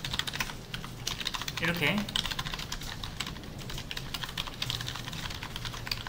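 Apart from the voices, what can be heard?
typing on a computer keyboard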